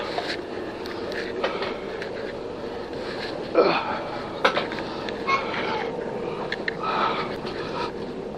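Inside a moving passenger train, a steady low rumble and rattle runs throughout, broken by a couple of sharper clunks, with faint voices now and then.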